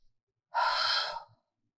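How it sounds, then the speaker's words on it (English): One slow, deep breath, an audible airy exhale lasting under a second, heard close and alone during a mat yoga class. "Inhale, expand. Exhale, draw in. Breathing."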